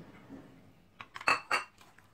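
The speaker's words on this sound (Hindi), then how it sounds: "अब इसमें मैं ये चिकन डाल के इन तमाम मसालों में चिकन को कोट कर दूंगी।" A spoon scrapes and clinks against a bowl, coating chicken in a spice marinade for fajita wraps; a short run of close metallic clinks and stirring, loud and with no talk.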